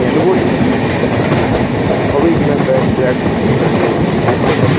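A train rumbles along the rails with a steady rhythmic clatter of wheels over track joints, loud and continuous, as heard from inside a carriage.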